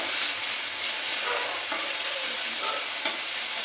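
Vegetables fry in a pan with a steady, loud sizzle and a few scraping stirs, no voices present.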